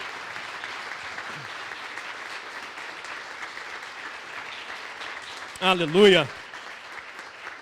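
A church congregation applauds steadily throughout, a continuous wash of clapping, while a voice calls out loudly near the end.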